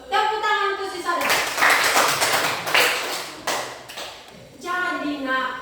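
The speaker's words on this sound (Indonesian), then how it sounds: "Tepuk tangan untuk si Sadar." A classroom of students claps for a classmate in a burst of quick hand taps lasting a few seconds, with a teacher's voice speaking before and after the clapping.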